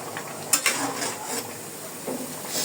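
Onions fry in hot oil for pulao with a steady sizzle and hiss, broken by a couple of sharp metal stirring clinks near the start.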